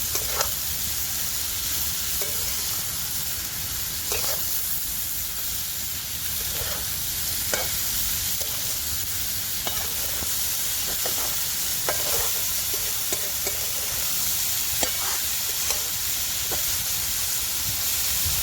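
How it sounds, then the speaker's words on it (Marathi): Wild greens with dried Bombay duck fry in a pan over a wood-fired stove with a steady sizzling hiss, while a spoon scrapes and taps against the pan at irregular intervals. "आता भाजी मी मिक्स करून घेते"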